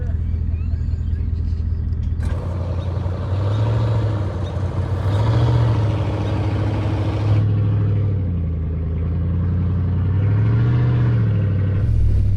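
A pickup truck engine revs hard in reverse on rough ground among trees, a deep rumbling drone that swells and eases repeatedly, close and loud, while someone talks over it.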